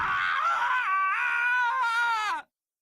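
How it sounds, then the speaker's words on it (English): Taka, a character in the video game Danganronpa: Trigger Happy Havoc, lets out a sustained, anguished wailing scream that wavers in pitch, loud and close, for about two and a half seconds before cutting off abruptly. "As Taka's sad screams invaded our skulls"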